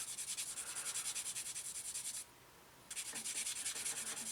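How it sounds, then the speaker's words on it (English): Sandpaper rubs quickly back and forth on plastic tyres from a 1/48 Airfix Boulton Paul Defiant Mk.I model kit to remove seam lines. The close, rhythmic scratching pauses briefly and then resumes. "So just sand them off like that."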